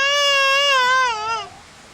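An infant, the younger of twins, cries alone in a loud, wavering wail for about a second and a half, startled awake by heavy rain, then the cry fades out.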